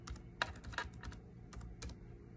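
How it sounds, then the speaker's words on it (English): Typing a web address on a computer keyboard, with quick clusters of keystrokes in short bursts and pauses, close and fairly quiet. "in the address bar, you're going to type"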